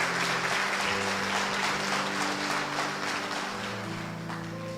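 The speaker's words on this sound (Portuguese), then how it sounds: "Até as palmas diminuíram, né?" Audience clapping in a hall, a steady broadband wash of hands that stays even and gradually softens toward the end, with low tonal hum or music beneath.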